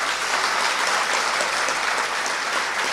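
An audience at Bageshwar Dham claps in welcome for a guest, a steady, even burst of crowd applause lasting throughout, with no talking over it.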